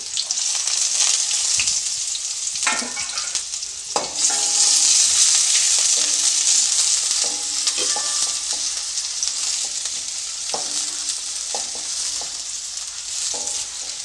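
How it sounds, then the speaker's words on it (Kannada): Onions and slit green chillies fry in hot oil for a dhaba-style mushroom gravy, a steady loud sizzle broken by scraping stirs and spoon clinks against the pan, with no voices. "ಈರುಳ್ಳಿನ ಚೆನ್ನಾಗಿ ಫ್ರೈ ಮಾಡ್ಕೊಳ್ಳಿ"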